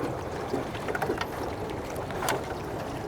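Light sheet-metal rowboat gliding along a calm canal at Tam Coc, with steady water wash, soft wind against the microphone, and a few faint knocks and splashes from paddling.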